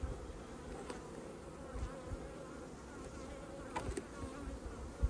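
Dense, steady buzzing of many honey bees close by at an open hive, a soft continuous drone with occasional louder passes of individual insects.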